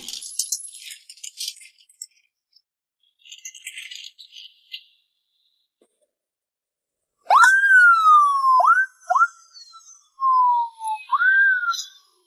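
An ambulance siren wails in sweeping, falling tones, sounding loud in short bursts separated by gaps, after a quiet stretch of faint scattered rattling clicks.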